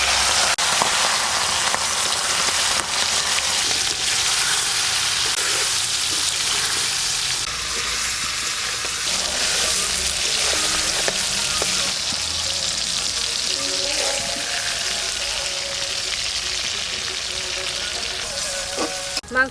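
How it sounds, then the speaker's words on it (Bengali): Marinated chicken frying in hot oil in a wok, a loud, dense, continuous sizzle like heavy rain, with occasional stirring scrapes and clinks throughout. "এবার মাংসটা ভেজে নেব"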